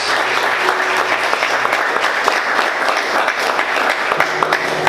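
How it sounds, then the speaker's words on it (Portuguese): A church congregation claps loudly for Jesus during a sermon, a close, continuous burst of many hands with a faint low hum underneath and no talking. "Quantos podem glorificar e aplaudir Jesus bem forte"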